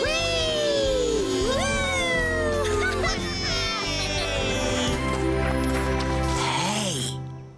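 A voice in a Postman Pat Christmas cartoon imitates a cat, drawing out several loud, sliding meows over a bright musical backing.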